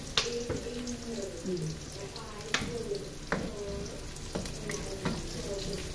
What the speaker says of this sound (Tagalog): Gisa-gisa lang muna ako dito. Magdagdag ako ng konting mantika.